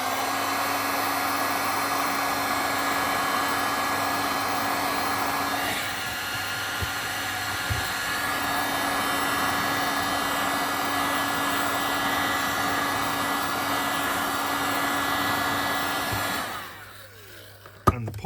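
A heat gun blows continuously to melt Saphir shoe polish on military shoes, a steady close whirring hum with a brief dip midway, then shutting off near the end.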